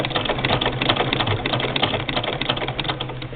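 An 1891 White VS IIb treadle-era sewing machine runs steadily through free motion stitching, a dense continuous mechanical clatter of needle strokes at a brisk even rhythm, close and fairly loud with no voices.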